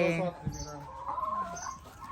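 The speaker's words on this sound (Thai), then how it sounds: "The rooster. He's getting old now." An ageing rooster and hens on a small farm, clucking and calling close by in short bursts, with a brief voice mixed in among them.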